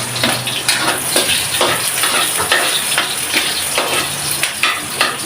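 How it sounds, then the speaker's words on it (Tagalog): Chopped onions sauté in hot oil in a pan while pork caldereta is being made, giving a steady close sizzle broken by repeated scraping strokes of a stirring spoon. "Mainit na ito at gigisahin na natin itong ating sibuyas"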